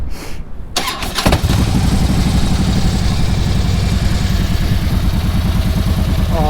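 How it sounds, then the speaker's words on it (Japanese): A Harley-Davidson V-twin on cold morning air, returned from a ThunderMax tune to the stock setup with an 800 rpm idle: a starter whirr, then the engine catches and settles into a loud, close, steady lumpy idle. "ちょっと一回エンジンかけてみましょうかね"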